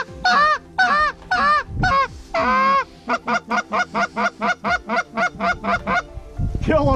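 Geese in Saskatchewan honk loudly and close by during a hunt in a long run of rapid, repeated calls, one after another.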